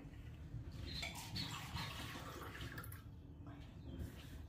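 Water is poured into a small drinking glass in the morning, a steady, close splashing trickle that runs the whole time with no voices.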